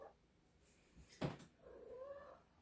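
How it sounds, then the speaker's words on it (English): A pet cat sitting in a chair gives a short meow-like cry, preceded by a soft thump and followed by a rising, drawn-out yowl, faint and close in a quiet room. "Oh, baby kitty in my chair."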